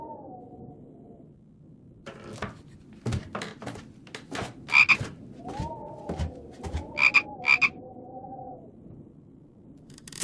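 A cartoon frog in the Wii game I Spy: Spooky Mansion croaks three times, once and then a quick pair, amid plinking, tapping game sound effects and a low musical tone.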